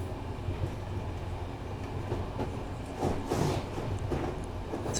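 Steady rumble of a steam train rolling along rails at night, a continuous low rhythmic drone with a brief swell of louder rattling midway, heard from inside the carriage with no voices.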